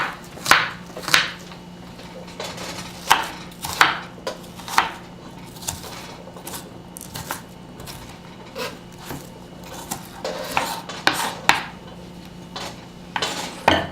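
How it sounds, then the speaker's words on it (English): An onion is chopped for corn chowder with a knife striking a board in irregular bursts of sharp, close taps and short pauses, over a faint steady hum. "I think this onion's all chopped"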